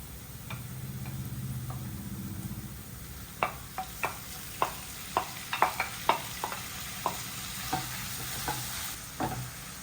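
Small chicken pieces with green chilli fry in a pan under a steady low sizzle. Sharp, irregular taps and scrapes from a stirring spoon come up close, and no one talks.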